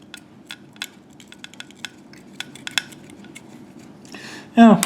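Fabric scissors snip at plastic interior panels from an Eaglemoss Nissan GT-R model car kit, giving a string of short, sharp clicks and cuts at close range before a louder clatter at the end.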